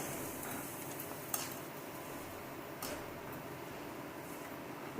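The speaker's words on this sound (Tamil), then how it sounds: "வெங்காய வத்தலுக்கு மட்டும் எப்போவுமே பொரிச்சு எடுக்கும்போது அனல் அதிகமாக வச்சிடாதீங்க" Sun-dried onion vadagam (vengaya vathal) frying in hot oil gives a steady, soft sizzle with a faint crackle throughout, broken by a couple of brief sharp clicks from a utensil against the pan.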